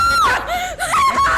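A girl screams loudly and close by in a tense indoor confrontation: one sharp, piercing, wavering cry that breaks off briefly, then rises again and holds.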